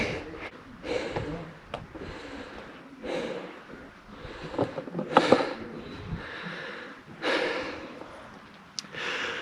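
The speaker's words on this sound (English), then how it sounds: "I think I'm gonna have to edit out me breathing." Heavy breathing from someone hiking an off-road trail, with loud rhythmic puffs, sniffs and gasps repeating close to the mic, with no talk.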